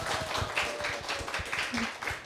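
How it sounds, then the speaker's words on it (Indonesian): Students in an audience at an IAIN Sorong campus talk show clapping for a fellow student, brisk close hand claps with audible individual slaps, a short lively round. "Berikan tepuk tangan dong buat temannya"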